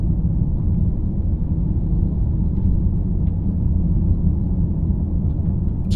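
A 2017 Honda Accord Touring Hybrid rolls along a gravel road, heard from inside as a steady low road rumble and tire drone with only faint, occasional ticks of stones flipping up.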